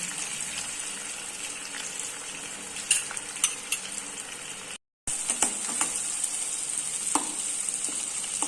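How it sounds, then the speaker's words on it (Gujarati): Chopped tomatoes and green chillies cooking in a pan for a Gujarati peanut khichdi, giving a steady, close sizzle with a few stirring clinks and scrapes and a brief dropout midway. "હવે આને ટમેટાને અને મરચાંને થોડીક વાર લગી ટમેટું પાકી જાય ત્યાં લગી પાકવા દઈશું"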